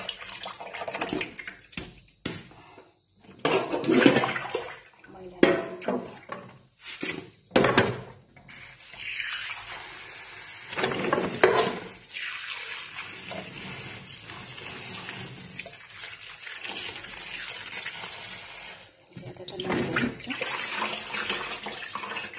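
Tap water runs and splashes in uneven bursts as bare hands are washed without gloves after handling hot chillies during pickle making, with loud gushes and brief pauses throughout.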